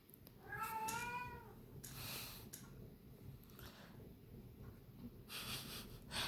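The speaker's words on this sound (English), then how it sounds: "that weird sound was my cat talking to probably the neighbor cat outside" A house cat makes odd, strained meows and chirping calls toward another cat outdoors, with breathy snorts and sniffs between the calls, close and fairly quiet.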